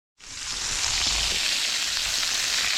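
Sausage frying in a pan at a truck campsite, a loud, steady hiss and crackle that starts suddenly and holds evenly throughout, close and alone without talk.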